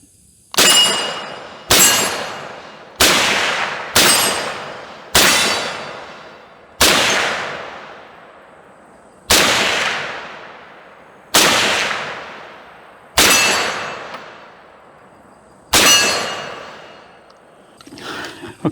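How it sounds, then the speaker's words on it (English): About ten single shots from an M1 Carbine rifle fired outdoors at an unhurried, uneven pace, each a loud sharp crack followed by a ringing decay, with no talking between shots. "let me shoot some rounds with the M1 Carbine"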